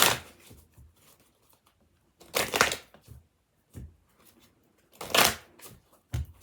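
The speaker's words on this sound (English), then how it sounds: "Two more shuffles there." Two bursts of tarot cards being riffled and shuffled, each about a second long, separated by quieter taps and handling sounds.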